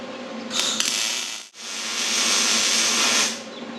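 Tack weld laid on the nose of a street stock race car: a close, hissing, crackling arc lasting about a second, then a brief silence, then a longer steady sizzle of about two seconds.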